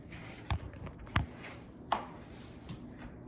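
Shortbread dough being mixed and pressed by hand for Scottish shortbread cookies, heard as three soft, distinct thuds and squishes spaced about a second apart in a quiet kitchen.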